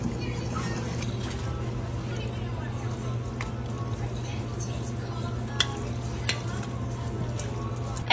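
Flour stirred into the hot juices of an Instant Pot french onion pot roast to thicken gravy, a soft steady scraping and swirling with a faint sizzle and a couple of light clicks, continuing under occasional talk.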